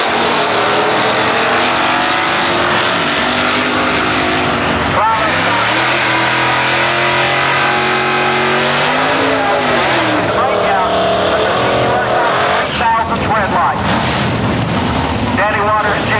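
Drag race cars at an IHRA event, including Chuck Sanders' Camaro, roaring loudly with engine pitch sweeping up and down as they rev and accelerate, under a track announcer's voice.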